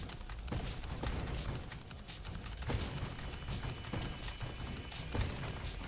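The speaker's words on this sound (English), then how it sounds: "That is so many explosions." Rapid overlapping explosions from the space shooter video game Nova Drift crackle and thump in a dense, continuous barrage, fairly quiet overall with a few heavier booms standing out.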